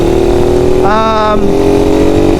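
Suzuki Raider 150 carburetor motorcycle, second-hand and leaking oil at the cooler hose, runs steadily with a brief rev rising and falling midway through, close and loud over a continuous engine drone.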